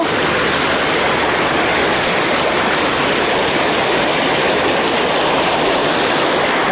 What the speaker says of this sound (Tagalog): medyo malakas ang agos dito, oh